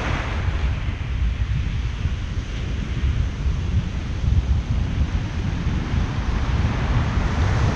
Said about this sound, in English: These waves.